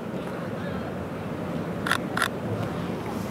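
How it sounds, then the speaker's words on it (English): Sony a7R III mirrorless camera shutter firing twice in quick succession, crisp mechanical clicks over steady outdoor city ambience near Marina Bay Sands in Singapore. "You can hear the shutter sound is a little bit different too."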